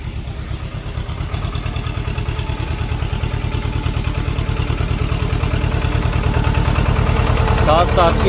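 A Swaraj 724 tractor pulling a 7-7 disc harrow in a sugarcane field chugs with a loud, rapid, rhythmic knock that builds slightly in strength, while someone talks over it.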